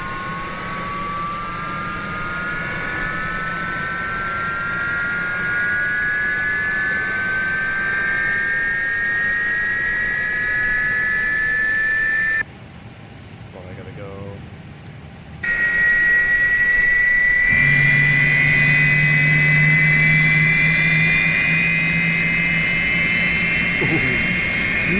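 Engine one of an Airbus A300 in a flight simulator spools up with a rising whine over a low rumble. After a brief drop, a louder steady roar follows.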